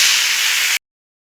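Radish greens and stem greens dropped into hot oil with garlic fried deep red give a loud, dense, steady sizzle for under a second, then cut off abruptly into silence.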